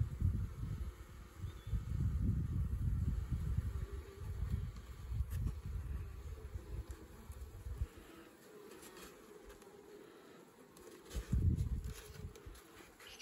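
Honey bees buzz around an open mini mating nuc, a close, dense hum that swells and fades as bees move near and away, with light handling rustles and no speech.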